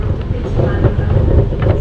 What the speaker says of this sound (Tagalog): Siyan ang kanilang subway.